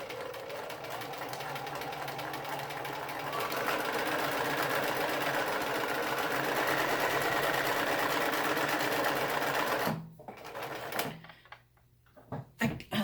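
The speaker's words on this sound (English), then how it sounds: "it will now sew forward again." A sewing machine stitches forward in a fast, even whirring run for about ten seconds, then stops, leaving a few clicks and knocks in near quiet.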